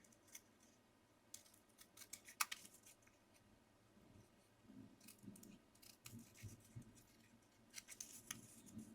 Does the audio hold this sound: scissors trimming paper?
yes